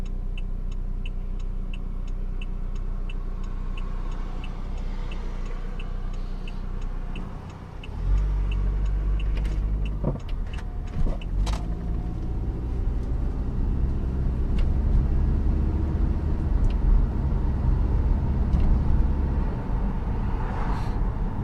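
Saab 9-5 with a light-pressure turbo engine, new catalytic converter and rear muffler delete, driven normally: a steady low engine drone from inside the car that rises after a brief dip, with faint ticking over the top.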